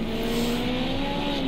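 A Porsche Group 5 race car engine drones at high, steady revs in a sim racing event at Hockenheim Classic, a loud, sustained tone with a slight rise, close and alone.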